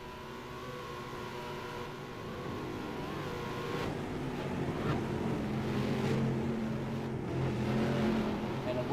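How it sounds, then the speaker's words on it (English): Race cars in a racing video game at the Milwaukee Mile drive down the back straight, a droning multi-car engine tone building and rising in pitch, with faint talk underneath. "You see your cars making their way down the back straight"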